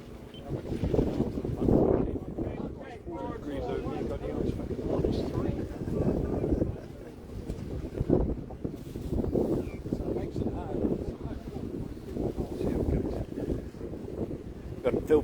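Wind gusting hard past the microphone at an evening sailing race, a steady roar with surges throughout, mixed with faint water sounds and occasional speech.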